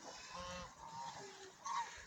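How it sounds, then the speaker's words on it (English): Farmyard geese honk in a few short nasal calls, fairly faint and a little distant, the last one slightly louder, with no talking over them. "And down here's the geese."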